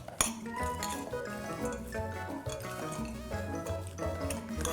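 Rice and quinoa salad being tossed in a bowl, with soft repeated clinks, scrapes and wet mixing sounds from a utensil, quiet and close.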